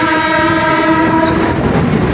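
Kolkata circular railway train running between the Ganges and a road, a loud sustained horn blast over steady rumbling wheels and rail noise, heard from on board.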